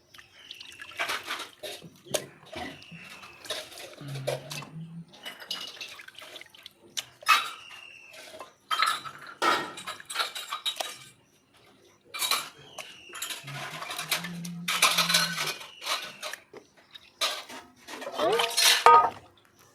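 Raw chicken pieces are rinsed in water in a metal pot or bowl, with splashing, dripping and clattering clinks of the vessel in irregular bursts, close and fairly quiet, with brief pauses between handfuls.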